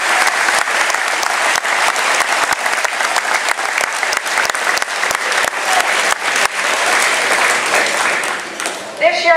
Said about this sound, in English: Please join me in giving our board members a round of applause.